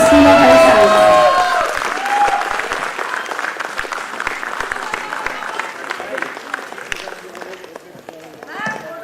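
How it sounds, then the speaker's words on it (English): Crowd applause at a foundation day award ceremony as a recipient is called up, loud at first under a speaking voice, then a steady spread of clapping that gradually thins out. "Please give a big round of applause."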